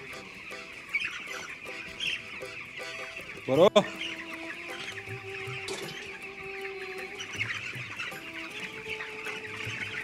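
Chickens cluck and chatter continuously at a village poultry farm in Robat, Afghanistan, with a loud nearby squawk partway through and someone speaking briefly amid the flock.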